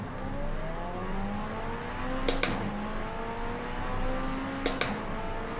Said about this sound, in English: I'll just drive around and let you hear the car